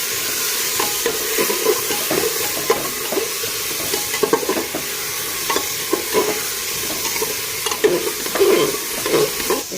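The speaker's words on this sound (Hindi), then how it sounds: "गाजर, हरी मिर्ची और सारे को भी प्याज टमाटर के साथ कम से कम 3 से 4 मिनट भूनेंगे।" Cauliflower, carrot, green chilli, onion and tomato frying in a pan for a pulao, a continuous sizzle with repeated scraping stirs at an irregular rhythm, close and without talk.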